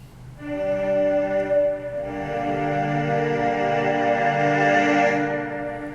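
A ROLI Seaboard Block keyboard plays sustained synth chords blending string and brass tones that swell and hold, with a brief dip before a fuller, brighter layer comes in and sustains to the end.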